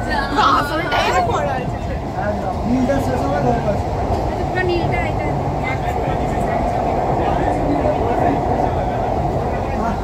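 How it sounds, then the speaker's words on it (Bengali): Kolkata's underwater metro train running beneath the Ganga between Howrah Maidan and Esplanade, a steady loud rumble and rushing roar inside the carriage, continuous throughout, with passengers' chatter and babble mixed underneath. "দেশের প্রথম আন্ডার ওয়াটার মেট্রো।"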